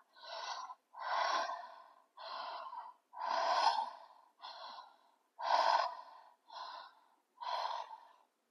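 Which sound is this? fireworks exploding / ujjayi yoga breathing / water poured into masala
ujjayi yoga breathing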